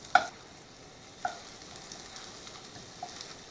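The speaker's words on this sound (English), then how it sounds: "I see the onions are starting to brown nicely" Onions fry and brown in a pan, giving a soft, steady sizzle. A few small clicks and taps of stirring break through it, quiet and close, with no talking.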